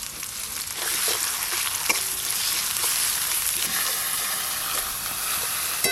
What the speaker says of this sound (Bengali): এবার পেঁয়াজ কুচি দেব। পেঁয়াজ কুচির সাথে সাথে আদা রসুন বাটাও দিয়ে দেব।